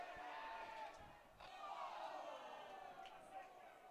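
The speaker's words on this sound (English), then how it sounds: "based on the reaction from the crowd, that somebody may have missed the catch" A baseball crowd at a Hays Larks vs Oklahoma MVP NBC World Series game groans and shouts as a fan in the stands misses a foul-ball catch. The crowd roar rises and swells at a distance, partly under a commentator's voice.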